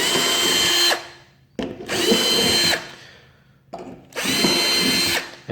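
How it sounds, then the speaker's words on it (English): A power drill boring holes into a car bumper while a rear diffuser is mounted, three loud, close whirring bursts of about a second each, separated by short pauses and spin-down. "Gonna go ahead and drill out the rest of the holes."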